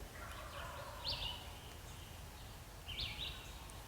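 Two distant turkey gobbles, one early and one near the end, rise faintly over low background rumble in an otherwise quiet outdoor setting.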